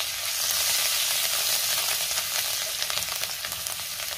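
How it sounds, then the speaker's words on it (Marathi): Garlic sautés in a pan with turmeric and chopped coriander, giving a steady close sizzle with faint stirring scrapes and no voices. "लसूण मी थोडासा परतून घेते"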